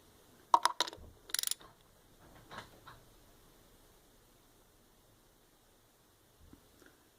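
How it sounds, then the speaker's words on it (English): Ratchet with a 17mm socket turning over a Kawasaki KLX250 engine by hand, a few short metallic clicks and mechanical rattles close up early on, then mostly quiet with a faint knock near the end. "rotate the engine through this hole using 17mm socket and ratchet"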